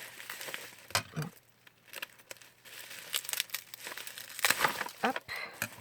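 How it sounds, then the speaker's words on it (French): Scissors cut through a cardboard Advent calendar box in close, intermittent snips and crinkles, with quiet pauses between the cuts. "Alors, prendre les ciseaux, ce sera plus facile."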